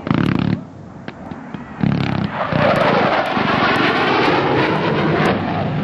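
A KC-135R tanker with General Electric CFM56 engines roars loudly at a 1993 air show at Brunswick Naval Air Station, Maine. The close jet engine noise dips briefly early on, then swells into a sustained, powerful rush.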